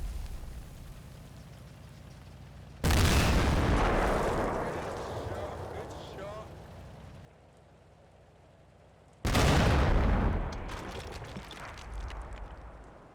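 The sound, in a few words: 6-pounder anti-tank guns firing at Panzer IV, Combat Mission video game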